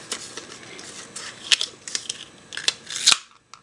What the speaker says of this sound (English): So I'm going to cut a circle out of the 1-inch circle punch.